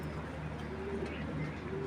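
A breeding pair of Johnson-bloodline racing pigeons coos in soft, low, repeated notes close by, over a constant background hum.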